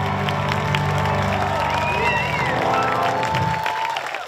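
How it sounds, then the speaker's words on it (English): An outback opera festival audience in the Queensland bush applauds loudly and continuously, a dense wash of clapping with cheers and whoops rising through it, tapering slightly at the end. "Nobody claps as hard as the people in the bush,"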